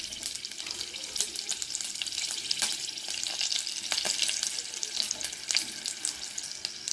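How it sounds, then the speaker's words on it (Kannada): Green chillies crackling in hot oil for a tempering, giving a steady frying hiss broken by quick pops and spatters, close and moderately quiet. "ನೋಡಿ, ಚಟಪಟ ಅಂದುವಲ್ಲ"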